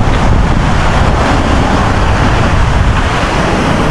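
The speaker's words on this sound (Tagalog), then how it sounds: "Pakalmahin lang natin tong mga alon" Rough ocean waves roar continuously against the shore, a loud, unbroken wash of surf blended with heavy wind buffeting the microphone.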